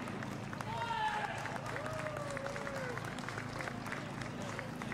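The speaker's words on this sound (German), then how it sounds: "Dein Applaus, Marc." A crowd gives a steady wash of clapping for a touring car podium finisher at the Nürburgring, heard as moderate-level applause under a voice speaking over it.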